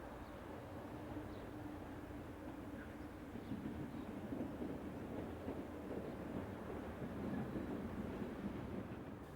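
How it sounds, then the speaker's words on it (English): A Class Y7400 shunter, number 7569, drifts into a station from the south with a short engineer's train. A faint, low rumble of wheels builds slowly and steadily, with wind noise on the microphone and no talking. "Class Y7400 shunter number 7569 drifts into the station from the south with a short engineer's train."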